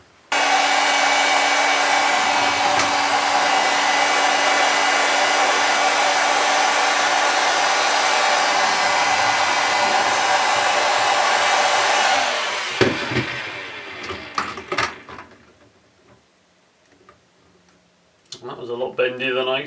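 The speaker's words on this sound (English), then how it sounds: "So I'm going to get a hot air gun. It's going to be very easy to heat this and bend it to shape." A hot air gun runs steadily for about twelve seconds while heating plastic to bend it into shape, a loud continuous blowing roar, then shuts off, leaving quieter handling noises and faint movement.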